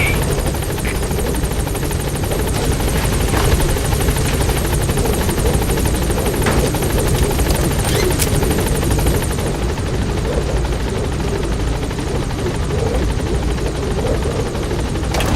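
The B-Quad helicopter hovers at a landing zone in Metal Gear Solid V: The Phantom Pain, its rotors making a loud, close, continuous thudding drone that holds steady for the whole stretch.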